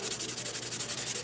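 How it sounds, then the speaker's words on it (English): Hand sanding with 600 grit sandpaper while building a whistle, quick even back-and-forth rubbing strokes, close and fairly soft, with no talk. "You're going to sand it."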